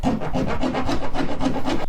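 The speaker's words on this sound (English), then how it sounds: "I'm going to use a file to make it bigger" A metal hand file rasps back and forth to enlarge a bolt hole during a half-cabin boat restoration, steady rhythmic strokes, close and loud, roughly eight passes with no talk.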